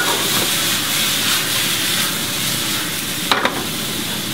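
Rapini and garlic sizzle steadily in a hot frying pan as they are stirred, a continuous close hiss broken near the end by a couple of quick utensil clinks.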